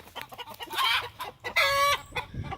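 Gamefowl chickens clucking nearby with a short crow-like call in the middle, a rooster and a Kelso hen vocalizing in uneven bursts.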